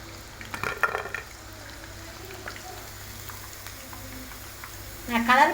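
Chicken 65 deep-frying in oil, a soft steady bubbling sizzle with a few clattering stirs at the start and a louder burst near the end.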